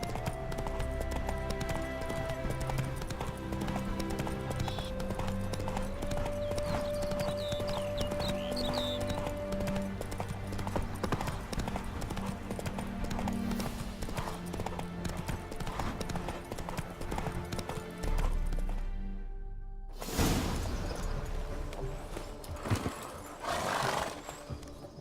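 Horse hooves clip-clopping from Roach, the horse in The Witcher 3: Wild Hunt, amid a busy game soundscape with music and a whinny. The sound runs for about eighteen seconds, then drops out briefly before louder bursts return.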